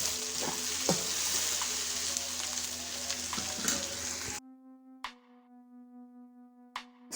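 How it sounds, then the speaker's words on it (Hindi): Four or five onions frying in a pan toward light golden for karela chicken, with a steady sizzle and a few stirring scrapes up close, then abruptly cut to quieter sparse clinks over a low hum. "4 से 5 अदद प्याज लिए थे और इसको लाइट गोल्डन सा कर लेंगे"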